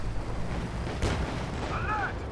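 A Puma armored car fires a shot in a World War II strategy game, a single loud boom about midway through, set against steady battle noise and a soft overlapping voice.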